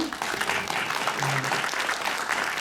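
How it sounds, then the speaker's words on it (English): Audience applause at a film Q&A for a screening at the Los Angeles Jewish Film Festival, a steady wash of clapping from a crowd that carries evenly through the whole stretch with no pauses. "we give Hilary a round of applause."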